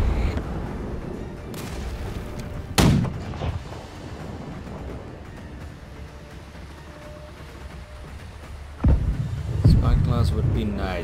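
Ship cannons fire in a Blackwake naval battle as heavy booms, one around three seconds in and another cluster near the end, with rumbling in between while a man calls out orders.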